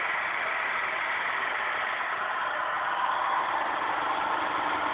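Newman motor powered by four 9-volt batteries, running with a steady, continuous whirring buzz at even loudness, close up, with no voices.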